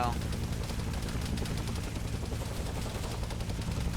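Sustained gunfire in the Vietnam-era Arma 3 military shooter, dense rattling shots over a steady battlefield din with voices mixed in throughout.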